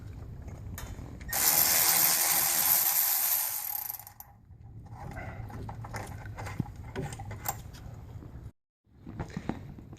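A ratchet wrench loosens bracket bolts on a Vortec V8 intake manifold, a loud rapid clicking burst for about three seconds followed by softer intermittent ratcheting and tool handling in a garage.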